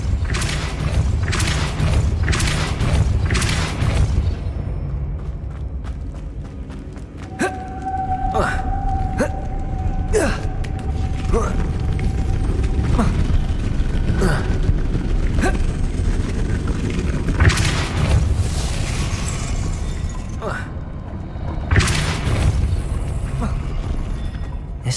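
Depulso spell pushing a mechanism in Hogwarts Legacy, a series of heavy booms and thuds with grinding mechanical movement and a sustained tone, spread over a rumbling game ambience.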